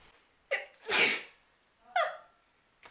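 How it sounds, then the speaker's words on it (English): Two sharp sneezes, each preceded by a quick inhale, close and loud, with a faint breath at the very end. "I'm gonna sneeze"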